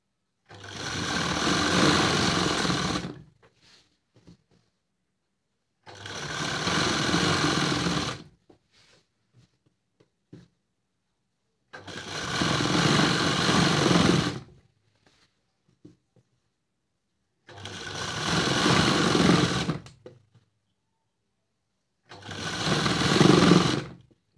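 A sewing machine stitches a Kalli dress in five steady runs of about two to three seconds each, separated by short quiet pauses, with no talking.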